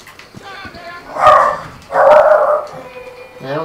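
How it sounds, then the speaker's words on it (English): Dogs bark on a farm in Red Dead Redemption, two loud, close barks a moment apart, with lighter yips and whimpers around them and a further bark starting at the end. "What were they barking at?"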